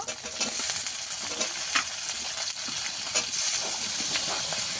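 Chicken curry with green chillies and chopped tomato fries in a pan, a continuous close sizzle with scattered stirring scrapes.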